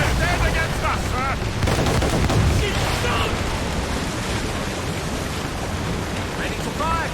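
Cannon and gun fire in the naval combat of Assassin's Creed Rogue, a loud dense barrage of booms and crackling shots over rumbling noise, with shouted voices breaking through.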